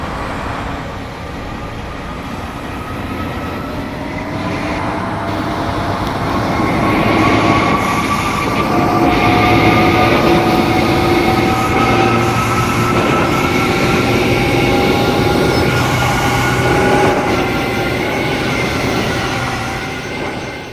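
Trains roll through a rail yard in Transport Fever 2, with a steady loud rumble of wheels, rising and falling squealing tones and faint rhythmic clacking over the full stretch.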